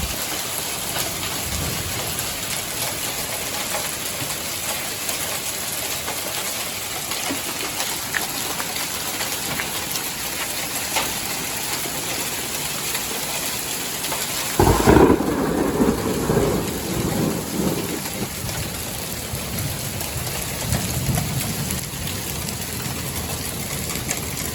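A storm soaks the ground with steady rain, a hiss that holds for the whole stretch, while low thunder rumbles beneath it; partway through a louder, closer burst of rain and rumble swells up, then eases back to the even downpour.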